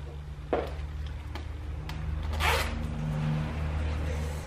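Zipper on a hooded Cotton On Body jacket being worked, with a few quick zipping strokes over a steady low background hum, close and moderately loud.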